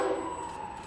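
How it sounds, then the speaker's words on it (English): A fire truck siren wails outdoors near railroad tracks, a steady tone that holds across the short moment as the truck passes, with no voices. "And there goes a fire truck."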